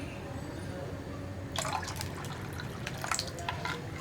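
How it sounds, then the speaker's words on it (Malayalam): Water is poured into a simmering ginger-tamarind curry (puli inji) on the stove, producing a short run of splashing and dripping partway through over a low, quiet kitchen background. "ഞാൻ വീണ്ടും കുറച്ചുകൂടി വെള്ളം ചേർക്കാൻ പോവാണ്"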